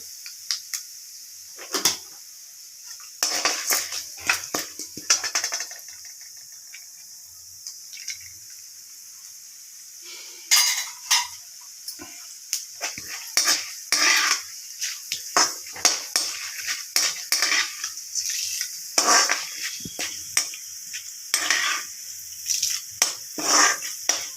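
Mustard seeds and cumin spluttering in hot oil in a pan while cooking wheat rava upma, with sharp irregular pops and crackles that grow busier over time, alongside occasional utensil scraping as the mixture is stirred.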